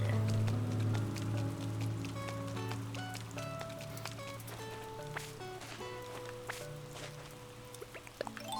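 Steady rain patters and drips across the scene in Animal Crossing: New Horizons, a continuous wash of droplets beneath soft, chiming melodic notes from the game's music.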